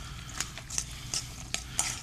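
Crumbled blue cheese is stirred into a dish of cooked vegetables, a spoon scraping and tapping the bowl in a soft, uneven rhythm of clinks and rustles at close range.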